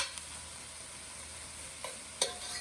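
Garlic sizzling steadily in a hot pan as it is stirred, a soft continuous frying hiss with a few light scrapes of the utensil, close and alone.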